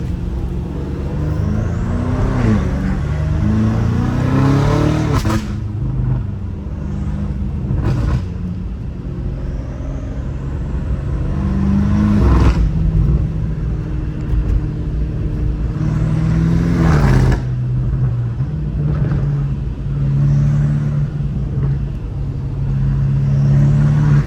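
A BMW M5 Competition with a twin-turbo engine drives through a neighborhood, its deep exhaust rumbling and swelling through repeated revs and accelerations, loud and close throughout.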